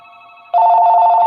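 A telephone bell starts ringing abruptly and loudly after a quieter tonal hum, a steady, piercing ring sustained close by with no talk over it.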